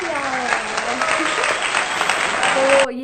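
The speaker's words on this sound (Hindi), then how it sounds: "तालियां।" Crowd-style applause rolls on steadily under a speaking voice, then cuts off abruptly near the end, in a casual Hindi-language Q&A vlog.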